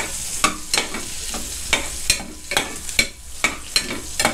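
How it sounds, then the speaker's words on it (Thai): Pepper stir-fried in an iron pot over low heat: a faint sizzle under repeated sharp metallic scrapes and clanks of the spatula, about two per second, close and loud. "เสียงอาจจะดังนิดนึงนะครับเพราะหม้อนี้เขาเป็นเหล็กนะครับผัดให้หอมๆนะ"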